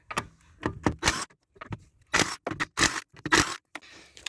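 An impact wrench spins off 21 mm lug nuts on a 2007 Mitsubishi Outlander during a rear shock replacement, giving a run of short, loud, sharp bursts with brief gaps between them.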